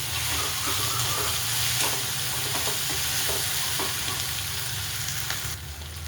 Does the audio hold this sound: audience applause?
no